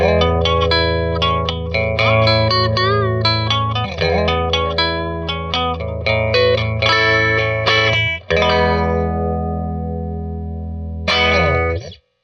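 Electric guitar with Mustang-style pickups, both pickups out of phase, giving a thin, nasal tone, played in strummed chords and ringing notes under distortion and chorus effects, sustaining near the end.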